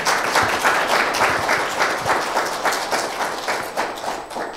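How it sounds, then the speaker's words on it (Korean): A church congregation in Toronto at a Sunday service claps for the choir, dense and lively applause with rhythmic swells that carries on steadily throughout without voices. "이왕이면 좀 힘차게 한번 박수 한번 쳐서 이렇게 격려해 주시면"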